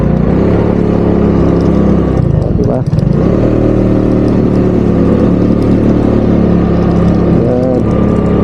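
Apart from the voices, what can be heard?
vehicle engine with a loud exhaust pipe revving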